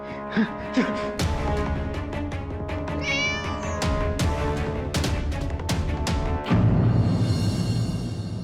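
A cat meows several times, loud and close, with a steady hum underneath.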